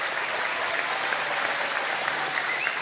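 A TV studio audience applauds steadily for a motoring show's timed lap result, a dense, even wash of clapping with no break for the whole stretch.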